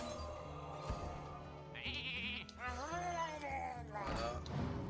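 Sheep bleats from the polymorph spell in the video game Hearthstone, a couple of wavering, nasal baa calls over game music with a short burst of chimes in between.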